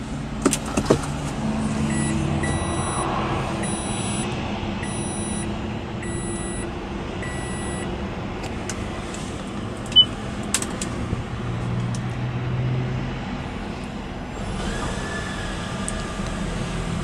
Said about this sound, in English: Now the regular motor turns on after the small part of the electric motor.